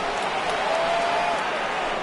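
A large stadium crowd in the baseball game MLB The Show 19 roars in a continuous, dense wash of cheering at a postseason game, loud and steady throughout, with no distinct voices standing out.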